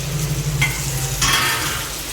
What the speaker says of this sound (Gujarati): બટેકા અરે ભીંડા બટેકાનું શાક અત્યારે આમાં નાખે છે વઘાર કરવા